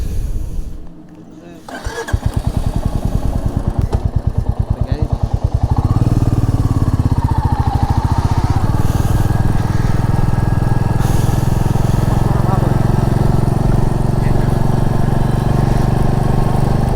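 A Royal Enfield Meteor 350 motorcycle engine cranks, then catches and settles into a loud, steady thumping drone that holds evenly while riding on a road.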